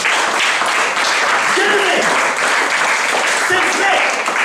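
A church congregation applauding during a French-language sermon, a broad steady wash of clapping that fills the whole stretch with a few voices mixed in.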